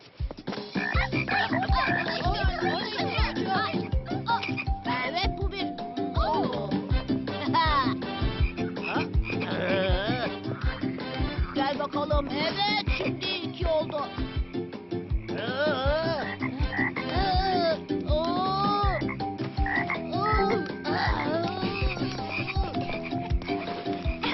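A chorus of frogs croaks continuously and loudly, overlapping rhythmic calls filling the whole stretch without talk, from an animated series scene.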